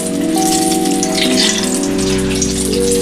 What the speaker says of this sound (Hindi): मैं धीरे धीरे करके ऐसे गुजिया भून रही हूँ।